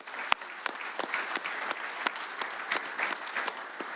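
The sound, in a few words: audience applause for basketball fans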